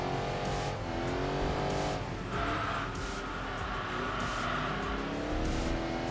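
A race car engine revs and drones steadily while the tires squeal through corners in Enthusia Professional Racing on the Nordschleife, a constant, close roar with shifting pitch and no talking.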